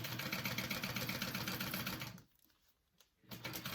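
A sewing machine stitches a bag's front pocket flap shut, a steady close mechanical whirr that stops briefly near the end, then restarts.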